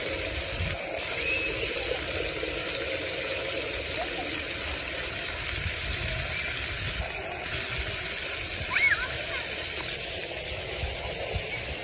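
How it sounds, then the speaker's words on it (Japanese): Water from a splash-play fountain in a park in Tsurumi, Osaka, gushing down forcefully, a steady, continuous rushing hiss heard close by with faint voices in the background. "勢いで水が落ちてきますから"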